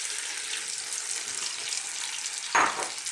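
Sliced potatoes and carrots frying in butter and olive oil, a steady close hiss of sizzling fat with a brief louder crackle near the end as more go into the pan, no talk.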